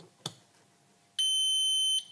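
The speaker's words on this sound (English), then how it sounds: "beep beep beep, we'll make a few beeps, don't worry, that's normal." A FreeGo enteral feeding pump gives one short click-like blip, then after a pause a single sustained electronic beep lasting under a second, clear and close in an otherwise quiet room.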